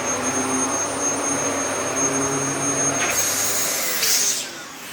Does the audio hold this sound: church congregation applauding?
no